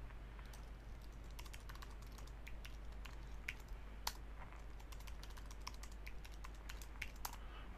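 A password is typed on a computer keyboard, with soft, irregular key clicks in a continuous quiet run over a low steady hum.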